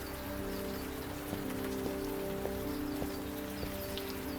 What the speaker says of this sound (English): Let's go ahead to the friggin' rain.